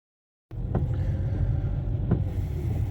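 Car driving on a busy highway in South Carolina: a steady low engine and road rumble begins abruptly after a short silence and continues evenly, with a couple of faint brief clicks, no talking.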